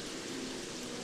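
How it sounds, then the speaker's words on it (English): Steady heavy rain pouring down in the survival game Don't Starve, a continuous dense hiss with no breaks, fairly loud and with no voices over it. "So God, it's raining on us. It is pouring."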